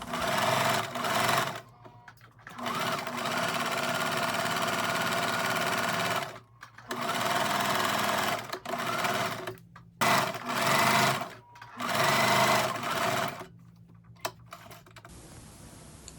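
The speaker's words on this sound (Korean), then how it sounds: "먼저 어깨 숄더심을 박음질 하겠습니다." A sewing machine stitches the shoulder seam of a linen blouse in several loud, steady runs of rapid needle chatter, with short pauses between bursts and a quieter stretch near the end.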